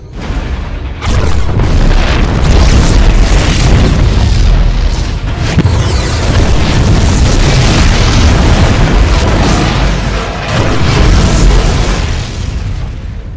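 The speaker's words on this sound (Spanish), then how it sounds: "Explosiones se detuvieron." Heavy booming blasts from the video game StarCraft 2: Heart of the Swarm roll one after another for several seconds, loud and close, with deep rumbling bursts and crackling debris in between.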